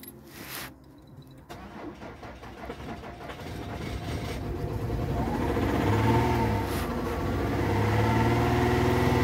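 A Peugeot 407 2.7 HDI V6 diesel with a faulty cylinder 2 injector circuit cranks, catches and then holds at raised revs, a steady rough drone that grows gradually louder up close.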